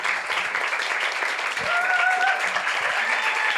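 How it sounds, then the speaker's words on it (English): Loud, sustained applause from a large audience, a continuous wash of clapping with a few faint voices mixed in. "That's your applause."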